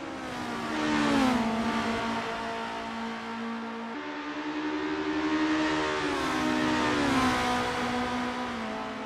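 Formula race car engines in the Assetto Corsa racing game whine and rise through the gears with steady revving, swelling as cars close in and fade back, with no talk.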